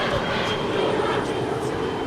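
An airliner taking off from runway 25 right at LAX, a steady broad engine roar that fills the scene, with a voice talking over it.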